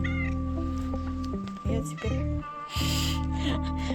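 A house cat in a village cottage gives several loud, close meows in quick succession. Some are drawn out and some are short, with brief pauses and light background noise between them.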